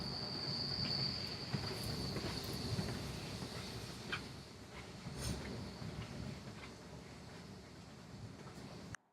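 Riding a commuter train gives a steady rolling rumble with faint clacks of the wheels and a brief high squeal near the start, heard from inside a carriage at low level.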